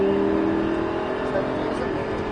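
A Lamborghini LP560 engine drones loudly and close on the Folembray race circuit, its pitch holding fairly steady as it pulls under sustained throttle.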